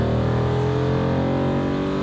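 A Range Rover SVR fitted with a Valvetronic Designs titanium free-flow exhaust holds a loud, steady engine drone with a rich harmonic blare, close and continuous.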